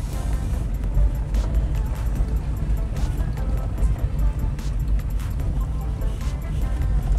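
Car driving along a mountain road out of Tilcara in northern Argentina, a steady low engine and road rumble heard from inside with faint clicks and rattles throughout.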